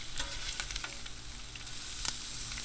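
Bacon grease sizzling and frying on a Blackstone 22-inch griddle beside pizza toppings, a continuous crackling hiss with scattered sharp pops and a brief scraping stir, close and alone without talk.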